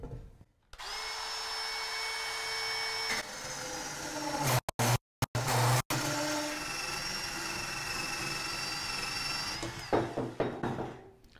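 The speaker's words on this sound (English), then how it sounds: "This blade cuts at about 570 feet per minute" A DeWalt band saw cutting through metal with a steady, loud whine that runs almost unbroken for about ten seconds, with a few short dropouts midway before the blade winds down.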